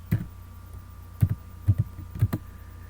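Keys on a computer keyboard are pressed in a few sparse, close clusters, soft clicks and thumps with short gaps between them, over a quiet steady hum.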